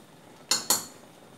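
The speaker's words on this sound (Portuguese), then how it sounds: "Vou colocar 2 colherinhas de chimichurri." A small spoon gives two quick, bright metallic clinks against a container while chimichurri seasoning is added, close and crisp in an otherwise quiet kitchen.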